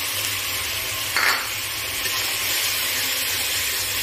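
Soaked spice paste hits hot oil in a pan of frying lote (Bombay duck) fish curry, with a brief sharp sizzle burst over a steady background frying hiss.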